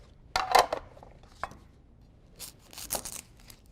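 Red onion chopped on a board, a few uneven knife strikes and crunches with quiet pauses between them, near and fairly soft.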